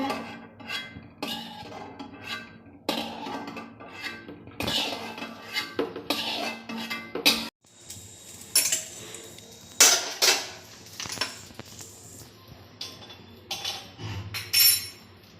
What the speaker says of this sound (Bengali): এই যে ভাজাগুলো এখন নামিয়ে নিচ্ছে